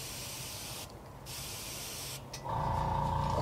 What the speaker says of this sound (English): let's just spray the sides of our bait there